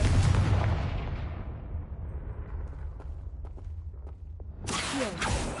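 The Confringo fire spell explodes in Hogwarts Legacy, a loud deep blast that rumbles and fades over a few seconds, followed by another bright burst of game effects near the end, with no talking.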